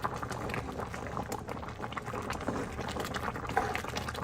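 A pot of Nigerian seafood okra soup boils steadily, giving a continuous close bubbling and simmering hiss with no talk.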